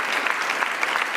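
Brief burst of dense audience applause at a climate action forum, a crowd clapping steadily and fairly loudly for about a second.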